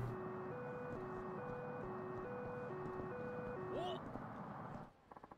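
A car rolls past in the city streets of Yakuza 3 Remastered, a steady engine drone with a looping chime-like jingle riding on top before the sound cuts away abruptly near the end.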